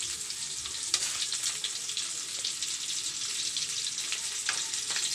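Breaded catfish deep frying in hot oil, a steady dense crackling sizzle with scattered sharper pops, close and even throughout with no talking.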